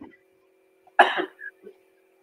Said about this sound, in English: Good job coughing into your elbow.